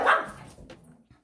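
A dog barks once, loud and close, followed by a brief softer yelp, with no talking.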